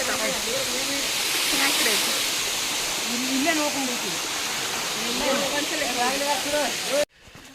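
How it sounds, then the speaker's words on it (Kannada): Kulimagod waterfall pours in a steady, full rushing roar close by, with voices talking faintly underneath until it cuts off abruptly near the end. "ಇದ ಫಾಲ್ಸ್ ನೋಡ್ರಿ ಫುಲ್ ನೀರು ಇರ್ತೈತಿ"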